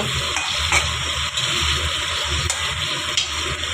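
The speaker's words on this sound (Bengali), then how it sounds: "কাঁচা মাছটা ভেজে নিয়ে নিই, কাঁচা মাছটা দিয়েই করবো এরকমভাবে।" Salted raw fish fries in a pan and is stirred through spices, giving a constant dense sizzle with a few brief scraping clicks from the stirring.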